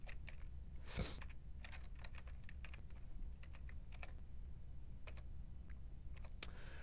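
Clicking keystrokes on a computer keyboard, including presses of the tab key, tapped in a quick irregular run of crisp close clicks with brief gaps, with no voice over them.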